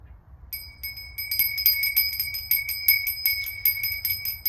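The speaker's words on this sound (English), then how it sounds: "Let me ring my bell." A small bell rung repeatedly in quick, irregular strikes, bright ringing tones close and loud, continuing steadily for several seconds with no talk.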